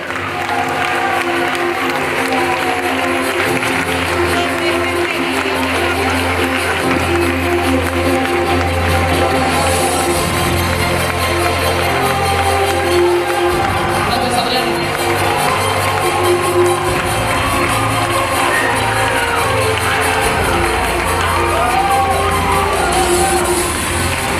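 A large audience applauds and cheers steadily at the Miss Grand Spain 2017 final gala as the winner is announced, a dense wash of clapping with scattered shouts and whoops throughout.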